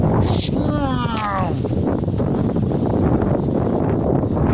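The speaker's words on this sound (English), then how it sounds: "this wind is getting very blowy" Strong wind buffets the microphone at the edge of an open field, a loud, steady roar through the whole stretch. A bird calls briefly near the start.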